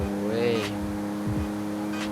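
The hybrid three-cylinder twin-turbo engine of a BMW i8 sports car, upgraded to 614 horsepower, hums steadily nearby with a couple of brief revving swells, under someone talking.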